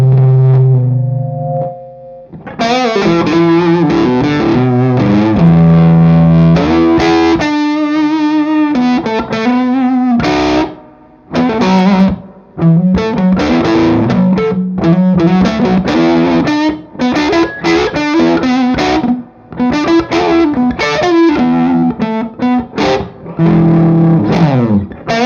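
Electric guitar driven through a Kingtone Mini Fuzz pedal, loud and saturated, playing chords and riffs with brief pauses and sustained fuzzy notes, no talking.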